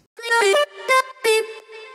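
Chopped synth vocal snippets with subtle distortion from Vocal Synth 2, three short bright stabs and a softer fourth in quick rhythm, clean and up front.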